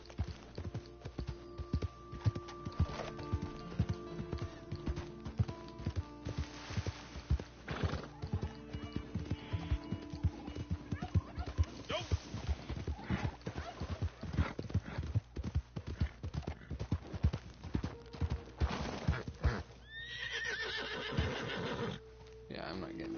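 Horse hooves clip-clop in a steady, rapid gallop in the video game Red Dead Redemption 2, loud and close, with a whinny and someone talking over them throughout.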